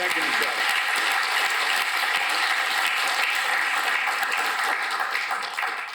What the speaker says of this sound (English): if somebody needs a great round of applause, it's our president, Greg Glasser.